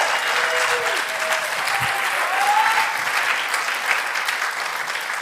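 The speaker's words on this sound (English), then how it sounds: "if you're gonna clap for the guy," Loud, sustained applause from an audience for Dr. Stan Fleming, a dense continuous wash of clapping with a few faint voices and whoops rising above it.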